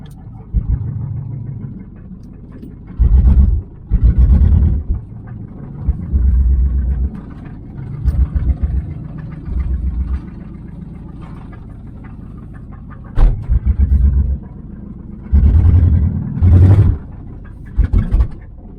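A 1996 Pontiac Trans Am being driven, its engine giving repeated loud, rumbling bursts of acceleration separated by quieter idling stretches, close by and without voices.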